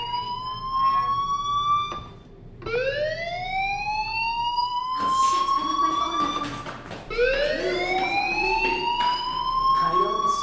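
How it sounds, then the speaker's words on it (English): Fire alarm in the Life is Strange video game, a loud repeating electronic siren whose rising wails sound in several bursts with short gaps, dominating the scene with little else audible. "Hey, do you hear that fire alarm?"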